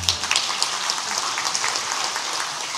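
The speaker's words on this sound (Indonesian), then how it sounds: "monggo tepuk tangan." An audience claps at a university graduation ceremony for UBI and STIB in Banyuwangi, giving a crackly, rain-like patter of many hands that stays fairly even for a few seconds.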